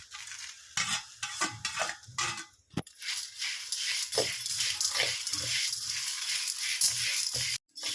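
Curry leaves and cumin roasting in a pan, with a steady dry sizzle and crackle close by, broken by scraping stirs and a few sharp clinks of the spoon against the pan.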